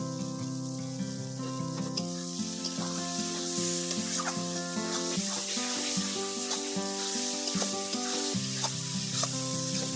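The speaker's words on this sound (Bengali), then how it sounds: "মশলাটা ভাজা ভাজা হয়ে গেছে, তেলও ছেড়ে দিচ্ছে মশলা থেকে।" Spiced masala with tomato frying in oil for chicken masala gives a dense, steady sizzle with crackling, bubbling and faint stirring scrapes, close and continuous throughout, with no talk.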